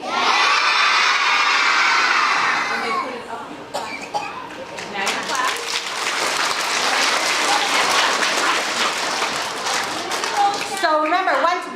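Children at a school assembly burst into applause and cheering, loud shouting over dense clapping that dips briefly, then rises again with high excited voices and scattered claps.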